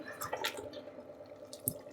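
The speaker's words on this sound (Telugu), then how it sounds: "ముందు ఇలాగ వాటర్ వేసేసుకొని కలిపితే పిండి బాగా మెత్తగా వస్తాయండి" Water trickles and splashes into a bowl of Mysore bajji batter in a few short, close bursts, fairly quiet against a steady low background hum.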